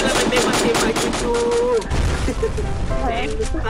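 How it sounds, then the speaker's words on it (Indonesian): Rapid bursts of gunfire in the Free Fire mobile game, fast repeated shots in the first half, then a heavier blast and scattered hits, with a voice talking over the action. "Eh, kita tembak, kita tembak. Meledak."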